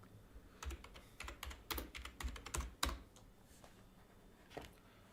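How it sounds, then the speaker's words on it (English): Keys clatter on a computer keyboard in quick irregular bursts of typing, faint and close, easing to a few scattered taps near the end. "The fuck is he typing?"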